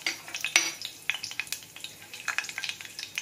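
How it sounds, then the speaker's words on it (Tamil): Whole spices — bay leaf, cinnamon, cloves and cardamom — crackle and sizzle in hot oil for a non-veg gravy, with a steady close frying hiss broken by sharp pops and a few stirring scrapes in the pan. "இதெல்லாம் பொரியட்டும் கொஞ்சம்."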